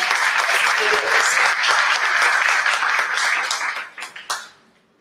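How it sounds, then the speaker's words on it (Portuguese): Audience applause at a Brazilian social technology catalogue launch event, a sustained dense burst of clapping from a crowd that thins into a few scattered claps and fades out. "eu queria pedir também uma salva de palmas"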